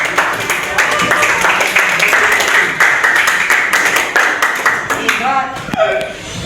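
A classroom of students claps together, a dense, steady patter of many hands that lasts several seconds before tapering, with voices rising briefly at the end.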